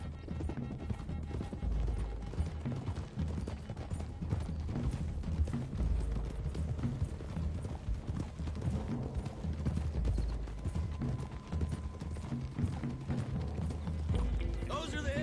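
Horse hooves gallop in a steady clip-clop over a dirt road in Red Dead Redemption II, several riders together under a dense, continuous wash of game music and ambience.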